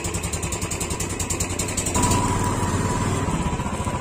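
Motorcycle engine with an open exhaust running steadily nearby, a loud, rapid rhythmic exhaust pulse throughout with a slight rise in revs partway.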